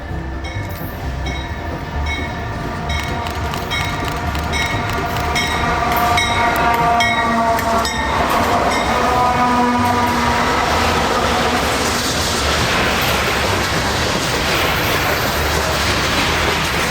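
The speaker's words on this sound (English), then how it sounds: "carrying this heavy coal train southeast towards the mountains of North Carolina" A heavy coal train rolls across the 990-foot steel Honeycut Bridge over the Holston River, built in 1908 by Southern Railway, with steady loud wheel rumble and rhythmic clickety-clack of wagons passing close by.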